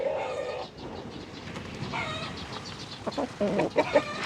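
Chickens cluck and squabble as the smallest hen flies at a rooster, a scrappy run of clucks and sharp squawks that grows louder and choppier toward the end.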